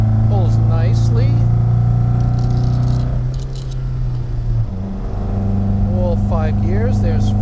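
A 1976 Jensen GT engine pulling hard through the gears, a loud steady drone whose pitch climbs, dips briefly at a shift, then climbs again. A voice talks over it.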